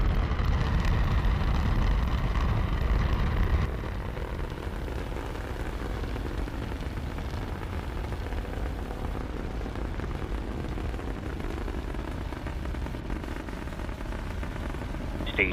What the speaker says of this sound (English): Stage 1 landing burn.